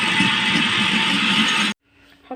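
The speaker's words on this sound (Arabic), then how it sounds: "هنضربوها بقى في الخلاط كده ايه مع بعض." Electric hand mixer whirring loud and steady through cake batter made with eggs, vanilla and orange peel, then cutting off abruptly into near silence.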